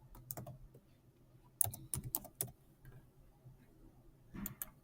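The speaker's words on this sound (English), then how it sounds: "I will type in the name" Computer keyboard typed on in short irregular bursts of light, close clicking keystrokes, with quiet pauses between bursts and no talking.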